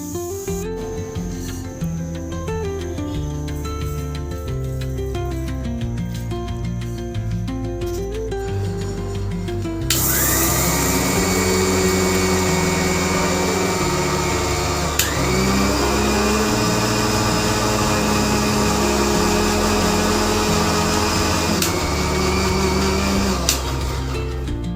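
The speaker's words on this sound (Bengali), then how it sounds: "ড্রাই রোস্ট হয়ে গেছে, এখন আমি মিক্সিতে ঢেলে নেব।" A mixer grinder whirs as it grinds dry-roasted spices, a loud continuous motor drone that jumps sharply in pitch and intensity partway through and then holds steady.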